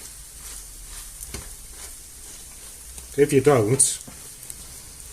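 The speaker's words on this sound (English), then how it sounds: "And I'll just let it cook there. I want it well done. I like it toasty." A cheese and garlic omelette sizzles steadily in a frying pan, with a burst of louder stirring and scraping near the end while a person speaks briefly.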